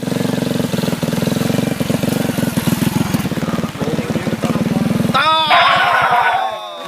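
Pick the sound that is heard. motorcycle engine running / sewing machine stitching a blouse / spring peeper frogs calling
motorcycle engine running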